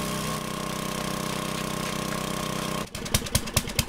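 A motorized auger drill in the survival game 7 Days to Die runs with a steady, loud droning hum for nearly three seconds, then cuts off abruptly and gives way to a few short, sharp bursts.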